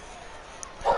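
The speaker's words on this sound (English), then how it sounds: "Yeah, that's my dog." A pet dog gives a single short bark or yip near the end of a brief moment, set against quiet room tone during a radio call.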